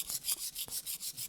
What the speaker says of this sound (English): And then you just sand off